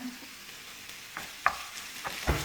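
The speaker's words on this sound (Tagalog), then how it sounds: "Binibisa muna natin ang sibuyas." Onions being sautéed in a pan for a Filipino-style mutton liver dish: a faint, soft sizzle with a few light scrapes and taps from a stirring utensil against the pan.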